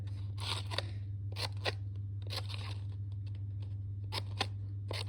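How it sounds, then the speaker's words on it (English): Scissors making short snips through paper for a star piñata, a series of quiet crisp cuts in small irregular clusters over a low steady hum. "So what I'm going to do instead is I'm going to do little snips"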